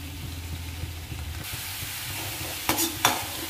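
Masala sautéing in oil for rajma, a soft steady sizzle with a low hum, followed by two sharp stirring scrapes near the end.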